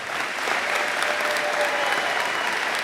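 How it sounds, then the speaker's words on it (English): A crowd gives sustained, dense applause for four student athletes at a high school college signing ceremony, steady and continuous throughout with no speech over it. "How about we give a big round of applause to all these 4 athletes."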